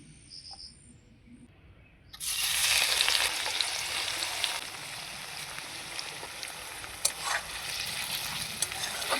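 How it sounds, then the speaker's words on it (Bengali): Chopped onions hit hot mustard oil over high heat and burst into a loud, steady sizzle after about two seconds of quiet, then keep frying with small crackles and pops, close up and alone. "এই পেঁয়াজ কুচানোগুলো সর্ষের তেলে দিয়ে বেরেস্তা ভেজে নেব।"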